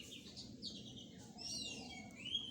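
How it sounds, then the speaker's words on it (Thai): Faint birds chirp and tweet in short, high calls scattered across the clip, distant, over a low background rumble. "ฟังเสียงไก่เสียงนกขับขานบรรเลง"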